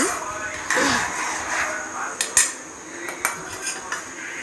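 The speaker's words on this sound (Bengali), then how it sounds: "এবার আমি গুঁড়ো গরম মশলা কাবলি ছোলার মধ্যে মিশিয়ে দিলাম" A metal spoon scrapes and clinks against a pot as garam masala is stirred into kabuli chickpea ghugni, with a few sharp taps standing out near the end.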